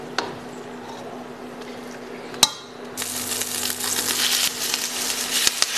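After a quiet start broken by a sharp clank of utensil on metal, aromatics hit a hot wok and burst into loud, close sizzling with scraping stirs and occasional knocks.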